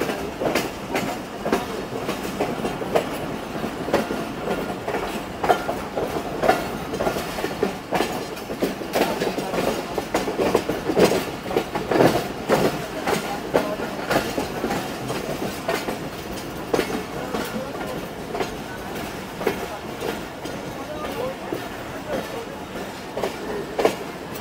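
The Pakistan Railways Awam Express runs on its rails as it approaches Meena station, giving a steady rolling rumble with repeated clickety-clack wheel beats that carry on throughout at moderate loudness.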